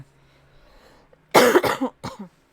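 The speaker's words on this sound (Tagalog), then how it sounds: "Ubong-ubo, di ba?" A burst of close, harsh coughing, three or four coughs in quick succession after a quiet pause.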